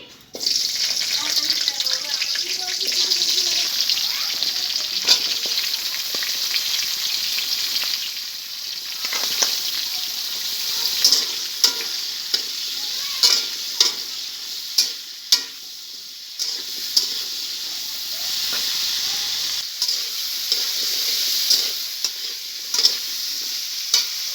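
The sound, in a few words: cauliflower frying in oil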